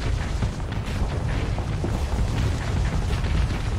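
Missiles detonating in the space combat game Starsector form a steady, dense rumble of heavy booms and bursts. The blasts run continuously and loudly with no gaps, and no voices can be heard.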